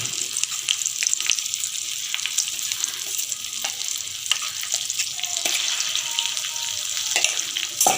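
Tempering for gongura pickle sizzling in hot oil, a loud, dense crackle and hiss that runs steadily throughout, with occasional sharper pops and spoon scrapes.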